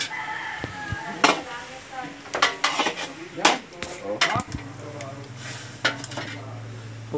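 Metal pots and utensils clank and scrape while chicken cooks, with a rooster crowing in the background and some faint voices.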